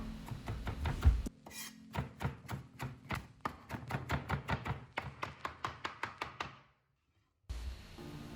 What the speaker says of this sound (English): we'll just take the leaves off the stalk and give them just a rough chop